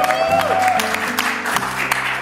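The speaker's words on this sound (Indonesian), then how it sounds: "Tepuk tangannya mana?" Brief burst of audience clapping at a lively casual talk show, mixed with music and voices, loud and close for about two seconds.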